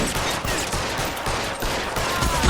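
Rapid gunfire in a shooter video game, a continuous dense rattle of shots close and loud for a couple of seconds.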